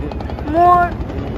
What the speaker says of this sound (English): I think some helicopters came